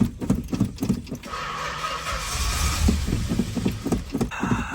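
A 1964 Chrysler Newport V8 cranks in rapid rhythmic pulses, then catches after fuel is dribbled down the carburetor and settles into a loud, rough, steady idle close by.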